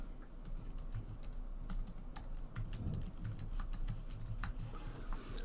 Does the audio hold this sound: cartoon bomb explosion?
no